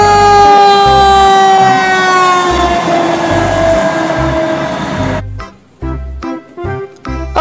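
A children's toy fire truck sounds its electronic siren, a loud wailing tone sweeping down over several seconds. Rhythmic mechanical chugging runs beneath it, then the siren cuts to a choppy, broken pattern at the end.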